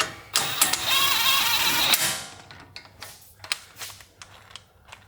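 A ratchet with a 19mm socket tightens brake caliper bolts on a 2010–2024 Toyota 4Runner, giving a close, steady clicking run for under two seconds, followed by scattered lighter metallic taps and handling noises.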